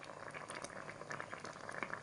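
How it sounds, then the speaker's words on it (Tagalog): A pot of mung beans bubbles at a soft rolling boil, small pops and gurgles crackling steadily and fairly faintly, with no voices. "Kumukulo-kulo na ang munggo."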